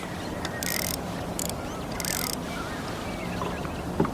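A fishing reel's clutch is backed off at a lake during winter lure fishing, giving three short bursts of ratchet clicking over steady outdoor background noise, with no talk.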